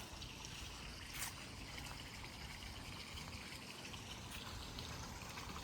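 Steady, soft trickle of a backyard garden water feature, continuous and even throughout, with faint brighter splashes now and then.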